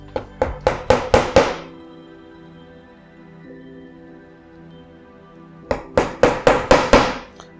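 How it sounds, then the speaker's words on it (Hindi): Two nails are hammered into a wooden board with two quick bursts of about six sharp, ringing hammer strikes each, separated by a few seconds of quiet. "एक बोर्ड पे मैं दो कील लगा रहा हूँ।"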